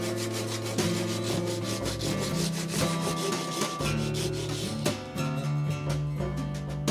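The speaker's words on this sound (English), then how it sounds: "I'm going to be using a Japanese pull saw to cut this down" A Japanese pull saw cuts down through a wooden axe handle, making steady, rhythmic rasping strokes that run continuously at close range under a layer of steady tonal background sound.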